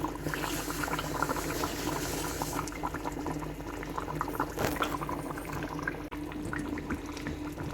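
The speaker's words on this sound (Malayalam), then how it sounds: "നന്നായിട്ട് തിളച്ച് വെന്തുകൊണ്ടിരിക്കുകയാണ് കേട്ടോ." Fish curry boiling in a pot, a continuous close bubbling and popping that holds steady without pause, with no voices over it.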